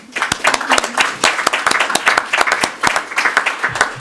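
Audience applause at a meeting, close and fairly loud with distinct individual claps forming an uneven, lively patter that continues throughout.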